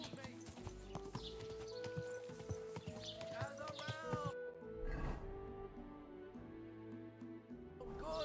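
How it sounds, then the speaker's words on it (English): Rhythmic clip-clop of horse hooves on a hard surface in Kingdom Come: Deliverance II, close by, with talk and other game sounds over it before things quiet down. "Your horse nearly trampled me!"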